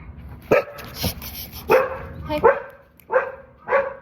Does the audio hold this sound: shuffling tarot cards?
no